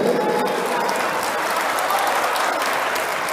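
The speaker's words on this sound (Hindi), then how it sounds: "अब तालियां बजाए रहे तो जोरदार तालियां बजा दीजिए भाई" Loud, sustained applause from a sizeable audience at an Urdu poetry mushaira in Muscat, Oman, dense clapping that holds steady throughout without any talking.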